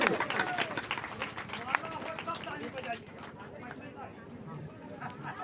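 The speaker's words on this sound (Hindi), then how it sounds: "कृपया सब कोई ताली बजाएंगे।" Scattered clapping and lively crowd noise at a village religious festival gathering, a dense busy texture of hands and murmuring voices close by, fairly steady in level with a sharper clap standing out midway.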